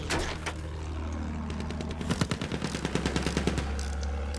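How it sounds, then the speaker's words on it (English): Anti-aircraft rocket fire in a battle game featuring an armored train, a rapid rattling burst of repeated blasts over a low rumbling engine drone, fairly close and without speech. "That's gonna be an AA rocket somewhere."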